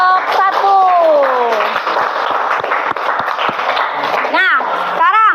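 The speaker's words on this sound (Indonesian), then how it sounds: "silakan tepuk tangan untuk kelompok" Students in a high school biology class clap for a classmate group in sustained, dense applause, with voices and high shouts rising over the clapping.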